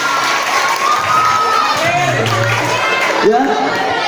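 An audience at a religious talk bursts into crowd noise, with children shouting and cheering loudly throughout, a dense, steady roar at close range with a thump near the end.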